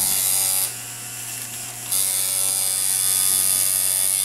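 Ground Zero tattoo machine running with a steady electric buzz and mains-like hum, loud and continuous, briefly dipping in level before returning to full strength.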